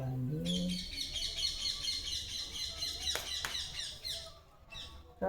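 Parrots gather in a jackfruit tree at evening, giving off a busy, continuous chorus of high chirps and tweets from many birds at moderate distance, with a brief low voice-like sound at the start.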